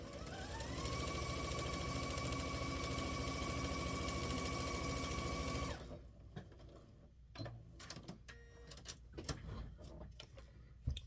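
A sewing machine stitches scrappy quilt blocks in a steady, close mechanical whir for about six seconds, then stops, leaving quieter handling clicks and rustles of fabric.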